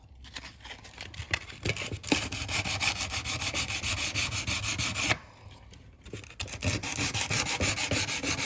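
Sandpaper scrubs a Lionel toy train part in quick, close, rhythmic strokes. The rubbing is nearly continuous, with one short pause midway.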